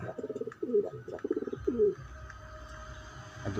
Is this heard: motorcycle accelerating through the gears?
no